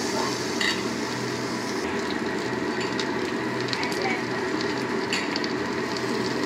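Onion and chilli frying in a pan sizzle steadily at close range, with occasional scraping stirs and light utensil clinks, and no talk.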